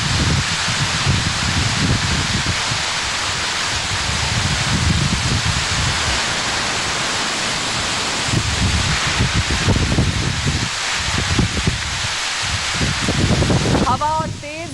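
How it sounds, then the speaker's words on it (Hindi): Heavy cyclone rain roars steadily with strong gusting wind buffeting the microphone throughout, loud and close, with no one speaking, in Ratnagiri, Maharashtra. "महाराष्ट्र की रत्नागिरी में तेज हवाओं के साथ बारिश हो रही है।"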